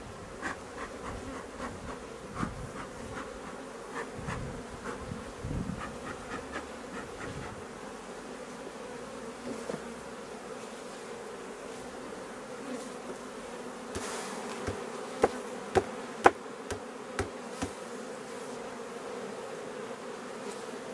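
Dense, continuous hum of honeybees buzzing at a hive during a summer honey harvest, with occasional sharp knocks and clicks of handling mixed in.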